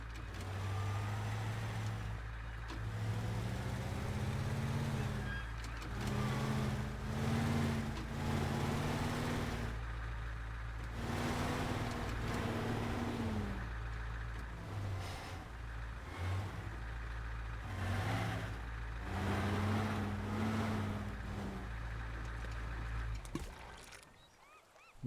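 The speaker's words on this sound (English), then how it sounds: "Now we're going to use the truck." A truck engine drones steadily in the Teardown video game, a low continuous motor hum with rising and falling revs as the vehicle drives, fairly quiet and alone before cutting off abruptly at the end.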